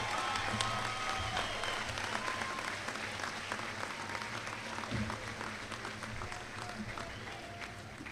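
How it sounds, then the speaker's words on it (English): At the Vermilion High School class of 2013 graduation ceremony, a large crowd applauds the graduating seniors with steady, continuous clapping from a distance, with faint crowd murmur beneath. "One more round of applause for our graduating seniors."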